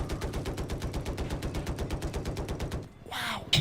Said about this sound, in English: he fires his last missiles off